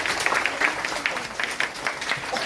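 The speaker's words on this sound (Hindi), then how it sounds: "अपने लिए तालियां बजाइए।" Children in a storytelling session clap for themselves, a brief burst of close, dense applause from a small group that stays steady throughout.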